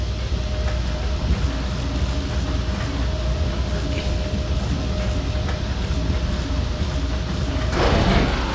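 A train in the sci-fi horror game Dead Space 3 makes a loud, steady rolling rumble with a sustained tone, and a brief hissing burst comes near the end. No one speaks.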